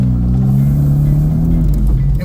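A Porsche 911 GT3 engine holds a steady, loud, close rumble with smooth harmonic tones that rise slightly, sounding more like a sustained idle or light rev than a sharp high-rpm scream.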